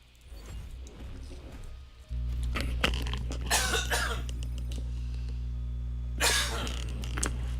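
A person coughs during an evening gaming session, giving several harsh bursts and throat-clearing sounds close to the microphone over a steady low hum, with a final loud cough near the end.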